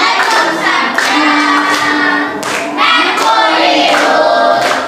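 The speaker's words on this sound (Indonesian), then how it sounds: "Boleh tepuk tangannya." Loud, sustained clapping from a class of students, steady and dense with a few bursts of renewed vigor.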